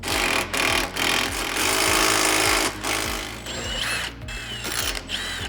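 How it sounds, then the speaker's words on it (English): A power tool spins out the middle cage bolts on a Honda Pioneer during fitting of a convertible cab enclosure with doors, giving loud, close, steady mechanical whirring that drops to lighter clicking and squeaks near the end. "now we're gonna remove the middle cage bolts."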